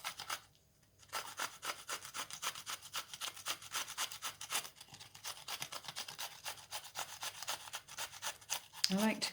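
Courgette is grated by hand on a grater, a fast steady run of rasping strokes, close and fairly quiet, after a short pause near the start.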